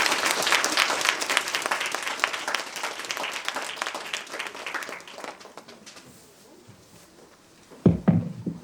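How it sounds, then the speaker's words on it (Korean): An audience of high school students applauds to welcome a lecturer, dense clapping that gradually thins and fades out, followed by a few brief louder sounds near the end. "선생님을 박수로 환영해 주시면 감사하겠습니다"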